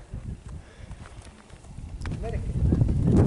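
Donkey hooves clip-clop on the ground outdoors near a pyramid, a steady run of light hoof strikes growing louder under people talking.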